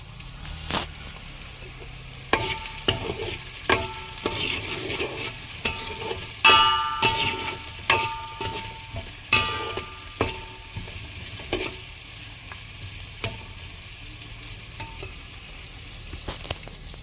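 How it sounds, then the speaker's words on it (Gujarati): Onion tempering for a potato-onion dish fries in hot oil, a steady sizzle broken by repeated sharp scrapes and clinks of a spoon stirring against the pan, close and fairly loud. "ડુંગળીનો વઘાર થઈ ગયો છે."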